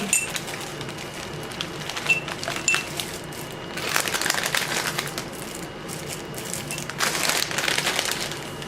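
Mixed holiday candies poured from a bag into a glass mason jar, clattering and rattling in two louder bursts over a steady rustle, with no one talking.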